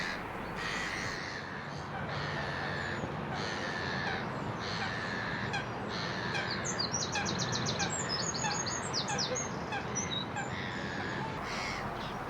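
Ring-necked parakeets calling outdoors by water at Dagenham Chase, harsh repeated screeching notes rising over a steady, busy background hiss of the park.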